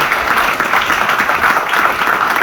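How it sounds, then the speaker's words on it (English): Loud, sustained applause from a conference audience welcoming a talk on cross-platform design systems, continuous and even throughout. "let's give him a big round of applause"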